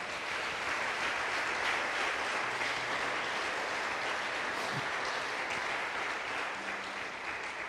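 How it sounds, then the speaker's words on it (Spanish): A church congregation claps together in sustained, dense applause that holds steady throughout, filling the room at a fairly distant, even level. "Dale el mejor aplauso al Señor."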